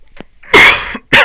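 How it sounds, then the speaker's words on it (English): A loud, muffled cough, smothered by a hand over the microphone, followed by a second burst after a brief pause, preceded by faint small noises. "Now I'm gonna cover my mic to cough."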